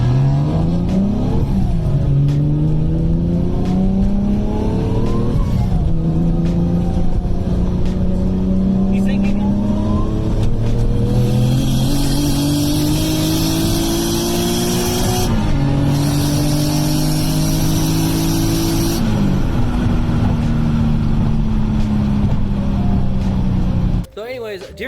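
A turbocharged car accelerates hard in a street race against a Yamaha R1 motorcycle, engine climbing through rising pitch sweeps with brief gear-shift dips, loud and close, with a voice talking over it.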